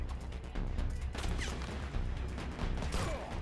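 Rapid sniper rifle fire in the mobile shooter game Sniper Fury, a dense burst of loud gunshot cracks and mechanical clatter over a constant low rumble, with faint speech in the background.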